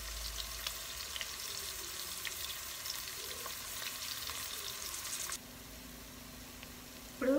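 Onions frying in oil for a prawn biryani, a soft steady sizzle with faint stirring ticks that drops quieter partway through, then a brief louder clatter at the very end.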